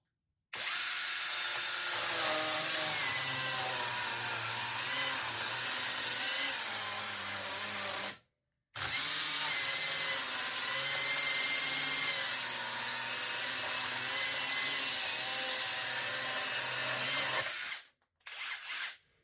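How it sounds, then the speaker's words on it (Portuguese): A 5-in-1 cordless drill with a saw head cutting very dry wood: two long, loud, continuous bursts of buzzing motor and sawing, close up, separated by a brief stop, then a short final burst. "Vamos ver como que a máquina vai se sair cortando essa madeira"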